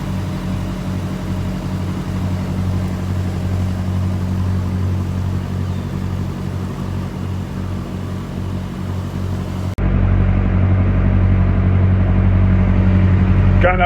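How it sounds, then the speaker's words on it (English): Narrowboat engine running steadily on a river during flooding, a close, loud low rumble with a constant hum that shifts in tone near the end after the revs are backed off. "So I just backed the revs off a little on that engine."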